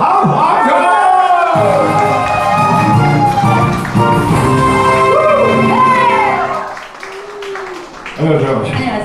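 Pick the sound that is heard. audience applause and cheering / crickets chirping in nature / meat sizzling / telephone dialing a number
audience applause and cheering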